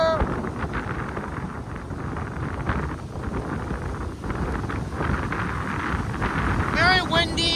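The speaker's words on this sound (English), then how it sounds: "Very windy." Strong wind on the shore at Illinois Beach State Park near Waukegan Harbor on a rainy day buffets the microphone in a steady, loud rumble, with a voice briefly rising near the end.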